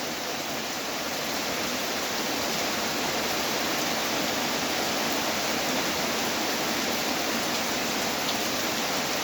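Heavy night rain falls steadily in a dense, even hiss on what seems a forest setting, loud and continuous with no voices.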